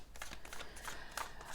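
Tarot cards being shuffled by hand, a continuous close riffling and sliding of card stock with soft rhythmic flutters and no talking.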